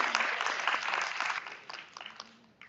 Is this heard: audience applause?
yes